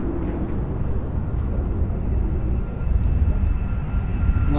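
A military jet at RAF Lakenheath air base gives a loud, continuous broadband roar that holds steady and swells slightly toward the end, with no voices.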